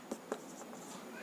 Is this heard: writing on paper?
yes